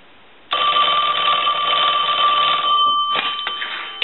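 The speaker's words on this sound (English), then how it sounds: "I'm going to go ahead and ring the phone." A Western Electric Princess telephone's bell rings loudly up close, starting abruptly after a brief silence and sustaining a bright metallic trill before breaking off and briefly restarting.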